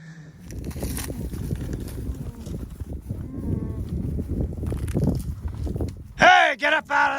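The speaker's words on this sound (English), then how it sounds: "Always got to deal with the bulls." Bulls low and bellow while fighting over a rumbling, shuffling cattle herd on a drive, and a voice shouts sharply near the end.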